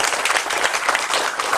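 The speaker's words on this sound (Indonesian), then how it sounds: "Tepuk tangan buat beliau." Lively applause from an audience gathered at a visit to an Ayam Bakar Mas Mono grilled-chicken business, many hands clapping close and loud in a short, continuous burst.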